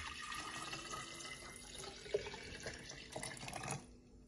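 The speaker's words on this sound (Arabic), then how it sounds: "بحطهم بهيدا البريق عشان اقدر فضيهم بسهولة عبريق الازاز" Apple, orange and lemon juice is poured into a glass jug in a home kitchen, with a soft, steady liquid trickle and splashing that swells near the end before fading out.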